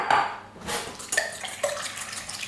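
Eggs beaten in a bowl for a Spanish tortilla con cebolla, giving a quick run of clinking, splashy whisking strokes at close range, with kitchen clatter and no talk.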